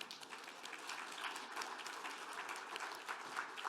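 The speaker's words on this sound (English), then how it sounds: "I think we all deserve a round of applause for the Canadian advantage" Sustained applause from an audience at a Canadian panel event, steady dense clapping with no voices over it, moderately quiet throughout.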